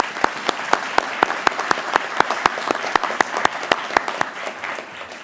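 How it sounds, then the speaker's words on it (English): A round of applause fills a commencement hall, a thinner crowd with several loud individual claps standing out at a regular rhythm over a wash of steady clapping, slowly easing off toward the end. "So how about just a quick round of applause?"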